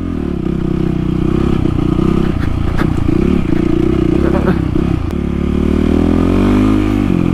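A motorcycle is ridden on an outdoor road, its engine droning loudly and continuously with wind noise, the pitch shifting as it accelerates, plus a few brief clattering bumps.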